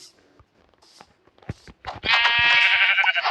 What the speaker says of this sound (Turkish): Şurada bir yerde koyun da var.